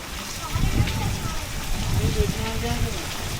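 Heavy rain pours during flooding in Mirpurkhas, a dense hiss of falling water with splashing close by, while people talk over it.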